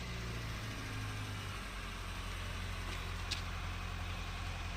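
A car engine idles steadily and close by, a continuous low rumble with no change in pace, and no talking over it.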